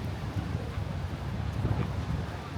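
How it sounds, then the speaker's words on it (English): Steady wind buffets the microphone on Benidorm's Levante Beach, a continuous low rumbling roar with gusty swells throughout and no voices. "Yeah, it is quite windy"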